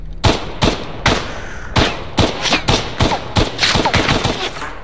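Rapid gunfire in the shooter game Stalker Anomaly during a firefight, with loud, sharp shots in quick bursts and fast volleys that keep going throughout, and no speech.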